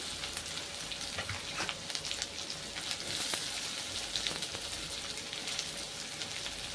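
Chopped onion frying in oil with browned potatoes, a dense, even crackling sizzle running steadily throughout with scattered sharper pops.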